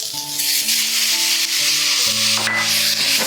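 Sautéed vegetables and fermented kimchi are stirred in a pan, making a continuous rubbing, sizzling scrape that runs under background music with no talk.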